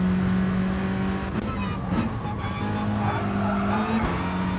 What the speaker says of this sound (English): And my tires squealing.